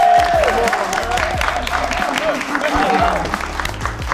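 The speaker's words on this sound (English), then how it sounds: "Make a round of applause for AMP." Steady applause from an audience fills the whole stretch, dense clapping with some crowd noise mixed in, loud and continuous.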